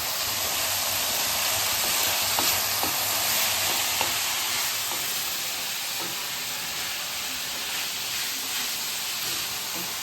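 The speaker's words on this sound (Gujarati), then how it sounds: "તો આપણે બધી સામગ્રીને મિક્સ કરી લઈશું. હવે ફ્લેમને આપણે ફાસ્ટ કરી દઈશું." Vegetables and peas for kodri khichdi being stirred in a hot pan over a high flame, giving a steady sizzling hiss with faint scraping and clinking from the utensil throughout.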